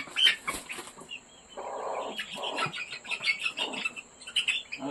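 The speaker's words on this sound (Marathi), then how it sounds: "हा कोंबडा आहे कोंबडा" A young rooster gives thin, high chirps against a steady background hum, with scattered faint bird sounds around it.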